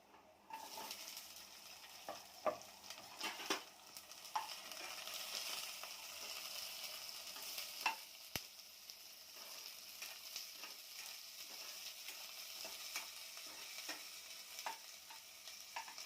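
Onion frying in oil in a pan, a soft continuous sizzle with occasional light clinks of a spoon stirring, fairly quiet and steady throughout.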